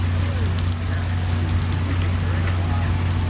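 Steady rain pours down at a beach on Castaway Cay, a dense continuous hiss of drops on surfaces with a low constant rumble underneath, close and fairly loud.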